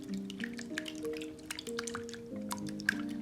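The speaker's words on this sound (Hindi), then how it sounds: "इसको अच्छी तरह से मिक्स करना है।" Soft wet squishing and sloshing of crepe batter with vanilla extract being stirred in a bowl, quiet and close, with gentle irregular pulses over a faint background hum.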